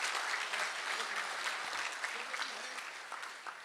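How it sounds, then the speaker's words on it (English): Audience applause at a water ski and wake sports Hall of Fame induction ceremony, a large crowd clapping steadily and filling the room, easing slightly toward the end. "let's give us all a big round of applause as we get this party going"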